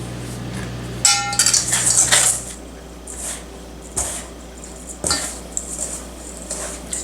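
Brown sugar, white sugar, cinnamon and salt being stirred together in a bowl, heard as soft gritty scrapes and light clinks in uneven bursts, close and fairly quiet.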